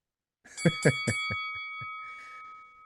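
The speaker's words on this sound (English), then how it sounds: "And there's the bell." The closing bell at a stock market rings in a rapid series of metallic strikes, then leaves a sustained ringing tone that slowly fades.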